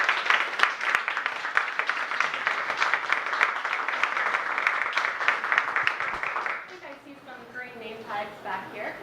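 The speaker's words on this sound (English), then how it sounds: "Let's give them all a round of applause." Audience applause at a life coaching event, a dense burst of clapping for recent graduates that runs for several seconds and then drops off abruptly, giving way to a voice.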